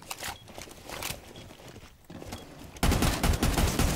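Gunfire in Rainbow Six Siege, with rapid clusters of close shots sputtering early, a brief lull, then a loud sustained automatic burst near the end.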